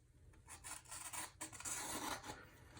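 A Higonokami-style folding knife blade cutting through material, heard as a steady rasping, scraping cut with uneven strokes, close and fairly quiet, with no talking.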